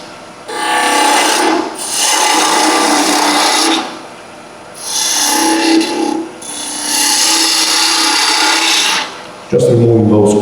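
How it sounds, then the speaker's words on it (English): Spindle gouge cutting the corners off a wood blank spinning on a lathe, heard as three long rasping, scraping bursts with short pauses between, ending in a brief lower-pitched sound. "Spindle gouge for this."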